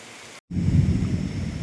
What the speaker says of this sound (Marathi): चांगला पाऊस पडतोय उनाकोटीला